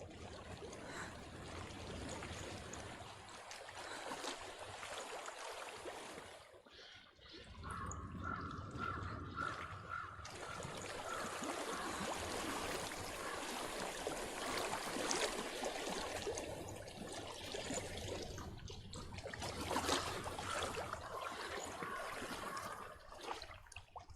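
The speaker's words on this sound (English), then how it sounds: "I hear water." A flowing stream in the video game Hellblade: Senua's Sacrifice, a continuous rushing and trickling of water with drips, steady at moderate distance, briefly dipping then swelling again, with no voices.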